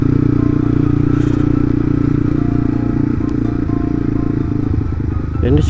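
A Yamaha Byson FZ16 motorcycle fitted with a Tiger carburetor idles and is blipped repeatedly, its engine loud and close with a steady throb and small rises in pitch, in a quiet morning market.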